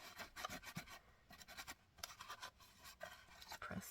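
A paper butterfly is scrubbed around in gilded leafing flakes, making quiet, close, rhythmic scratchy rubbing strokes in quick repeated bursts.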